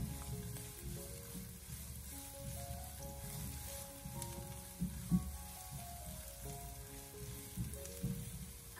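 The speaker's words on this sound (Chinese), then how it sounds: "下切好的蒜末还有小米辣，开小火给它翻炒一下" Minced garlic and small chili peppers stir-frying over low heat in a wok, a soft steady sizzle and crackle with faint stirring scrapes and one brief clack, quiet and without speech.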